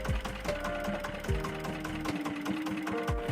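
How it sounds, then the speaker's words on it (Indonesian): A small engine driving an abaca decorticator runs steadily at high speed, a dense rattling, knocking drone with a few sharp thumps and shifting tones, close and fairly loud. "Kemudian, pastikan putaran mesin sudah cukup kencang."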